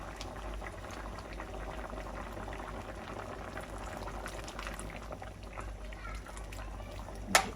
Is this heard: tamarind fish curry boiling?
yes